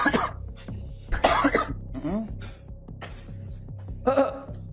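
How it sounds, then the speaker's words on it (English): Several harsh coughs and throat clearings from a person in a courtroom, arriving in uneven bursts with brief muffled speech between them, close to the microphone. "Coughing in this lady's face."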